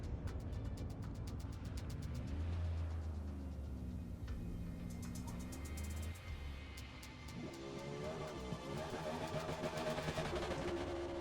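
NASCAR stock car engine in Forza Motorsport at Mid-Ohio Sports Car Course, a loud continuous drone that climbs and falls in pitch through repeated revs and gear changes, with rapid ticking clicks overhead.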